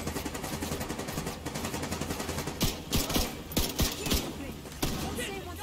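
Rapid bursts of machine gun fire from the shooter game The Division 2, a loud crackling fusillade of gunshots cutting through a background music bed.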